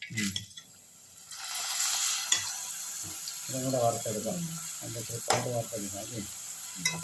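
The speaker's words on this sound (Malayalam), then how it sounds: "ഇത് ചെറിയ പാത്രമല്ലേ പപ്പടം കൂടി നമുക്ക് വറുത്തെടുക്കാം" Papad frying in hot oil in a small pan, a steady close sizzle with bursts of crackling, while someone talks over it in short phrases.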